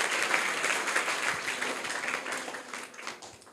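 Students applauding in a classroom at a Varanasi inter college, a lively round of many clapping hands that starts loud and gradually tapers off.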